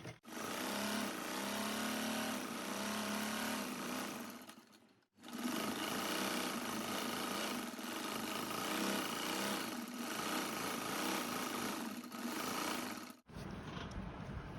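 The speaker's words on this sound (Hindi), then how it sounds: "दूसरी मोहरी में भी सिलाई लग जाएगी" A sewing machine runs fast and steadily while stitching the hem of a salwar leg, a loud close whirring hum that stops briefly twice before resuming.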